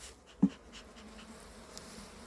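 Honeybees hum softly around an opened hive holding a 2025 queen and a colony made from a swarm. The quiet, steady buzz carries one brief louder knock near the start.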